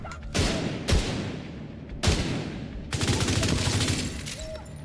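Heavy rifle shots from the Bighorn in the video game The Division 2: several loud, sharp reports spaced apart, then a denser run of rapid fire, each with a booming tail.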